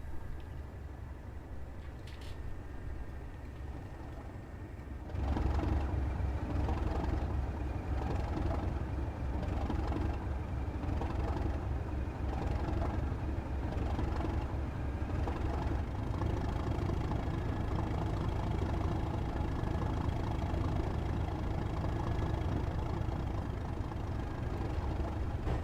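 Electric motor hum and mechanical whine of a SouthEastern HighSpeed train in Train Sim World 5, rising steadily as it pulls away after a quiet wait, then holding a loud continuous drone with rhythmic clatter.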